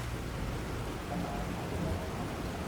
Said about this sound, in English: Hello, rain.